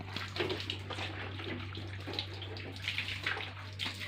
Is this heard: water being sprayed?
yes